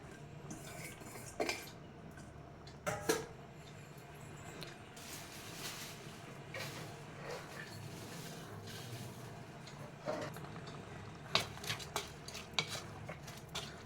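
Cabbage and chana dal being stirred in a pan, with scraping spoon strokes and sharp clinks against the metal over a faint, steady sizzle, spaced irregularly and close by.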